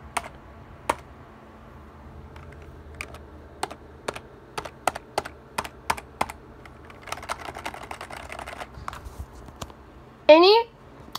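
Keys on a Corsair K55 RGB keyboard are pressed one at a time, a series of sharp separate clicks with a quicker cluster of typing later on. A brief zipping squeak sounds near the end, and a person talks quietly underneath.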